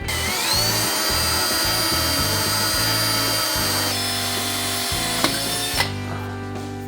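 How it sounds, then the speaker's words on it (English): A power drill whines steadily at close range for several seconds, with a loud continuous motor tone, a few brief knocks near the end, then cutting off. "So now we're gonna bust out the drill"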